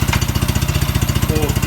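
A Suzuki Quad Runner ATV engine pulls in third gear with a fast, even, chugging beat. Up close, the single-cylinder thumps are loud and steady throughout.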